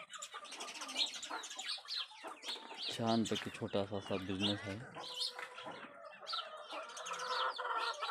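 Chickens cluck and chirp on a small farm holding about 70 to 80 birds, several calls near and overlapping, with a loud burst of crowing midway, while someone talks over the flock throughout.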